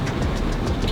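A train rolls past nearby, a steady broadband rumble with faint rhythmic rail clatter throughout the brief moment, no voices.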